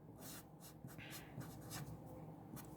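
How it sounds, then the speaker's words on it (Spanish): A pen or marker sketches a chemical structure on a writing surface, giving soft scratchy strokes and short squeaks that come in quick irregular bursts, close and quiet with no talking. "Voy a dibujar una estructura"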